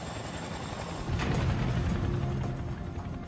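A helicopter climbs slowly with its thrust control pulled up, its steady mechanical rotor and engine drone grows louder about a second in and holds a dense, rumbling churn with no voices.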